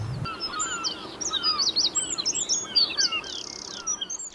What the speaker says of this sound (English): The normally shy wrens seem to pop up everywhere, singing as loudly as they possibly can.